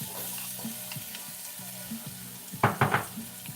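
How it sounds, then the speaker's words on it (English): Onions frying in a pot while making broccoli cheddar soup, a low steady sizzle under quiet background music, with a few louder bursts of crackling and stirring near the end. "we're going to put our onions in there"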